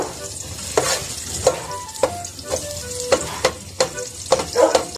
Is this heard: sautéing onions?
yes